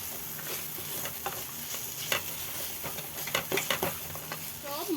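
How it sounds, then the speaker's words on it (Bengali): Fried peanuts and spices being stirred together in a pan, soft scraping strokes at an irregular pace over a faint, steady sizzle. "সব মশলাগুলো ভালো করে আমি মিশিয়ে নিচ্ছি"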